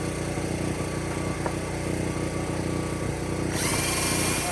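A corded power drill run off a generator bores through scrap metal with a worn, burned-up bit, giving a steady close whine over a constant motor drone that swells slightly near the end.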